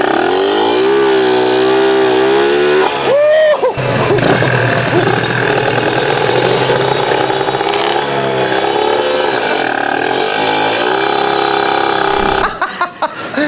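A Kawasaki Ninja drag motorcycle built for 500-meter runs revs hard, its engine and exhaust rising and falling in loud, harmonic-rich roars with a brief cut before winding up again and dropping off at the end.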